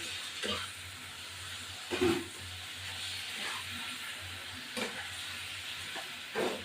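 Mutton pieces fry in a pan for a kosha curry, a steady close sizzle broken by several scraping stirs at irregular intervals, with a low hum underneath.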